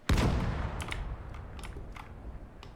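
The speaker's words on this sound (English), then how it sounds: "nail him with the machine gun, like so" A burst of gunfire in the World War II strategy game Gates of Hell: Ostfront opens with a loud, close report that rings out, followed by several sharper, lighter shots spaced across the moment.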